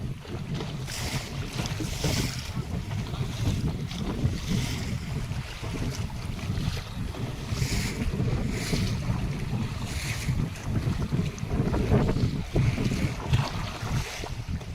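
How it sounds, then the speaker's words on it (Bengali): Strong wind buffets the microphone while waves slap around a small river boat in the Sundarbans. The gusts and splashing stay loud and continuous throughout, with no talking. "নৌকায় কিন্তু জল তুলে দিচ্ছে প্রচণ্ড হাওয়া হচ্ছে"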